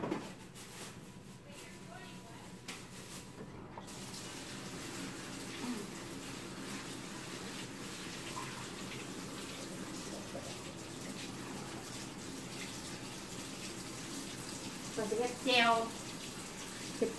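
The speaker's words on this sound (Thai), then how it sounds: "ไปล้างล้างให้สะอาด" Food being washed under a running kitchen tap, a steady continuous stream of water hissing and splashing for a long stretch, with brief clatters near the end and a person talking over it.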